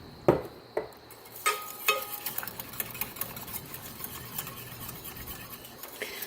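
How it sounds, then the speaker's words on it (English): Vanilla custard with butter being stirred in a pot: a spoon scrapes and taps the pan in irregular light clicks and swishes, close and fairly quiet, with no voices. "So you just want to keep stirring it."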